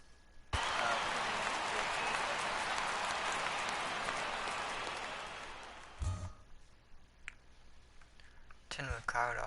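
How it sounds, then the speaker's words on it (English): Crowd roar from the baseball video game MLB The Show 19, a loud broadband wash of cheering that fills most of the stretch, then fades abruptly to quieter game sounds and a few clicks. "I couldn't hear you over the crowd."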